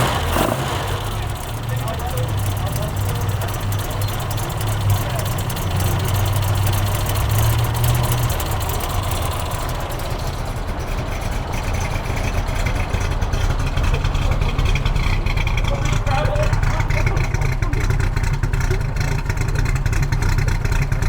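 A 1972 Datsun 1200 engine with mild cams runs close by, a loud steady choppy idle with some revving, while people talk over it.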